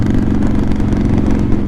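Motorcycles riding through the Baldwin blessing of the bikes rally, a loud continuous low engine rumble with steady idling chug close by, no pauses.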